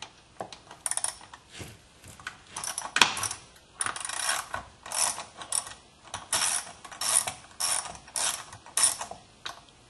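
Nuts being loosened and removed from the air box of a Craftsman chainsaw, giving a steady series of close, bright metallic clicks, ratcheting rattles and clinks in repeated bursts with no talking.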